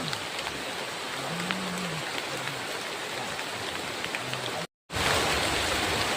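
Heavy rain pours down outdoors, a dense steady hiss that cuts out for a moment and then returns louder and fuller, with no voices over it.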